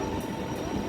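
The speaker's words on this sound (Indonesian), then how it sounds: "kereta dari Prague" A train leaving Prague station, heading on toward Berlin, rolls past close by with a continuous loud rumble of wheels and carriages throughout the short moment.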